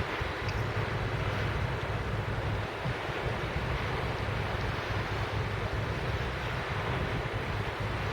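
Wind gusting over the sea at Lowestoft during a sea fishing session makes a steady, loud, unbroken roar with a low rumble, and no one speaks.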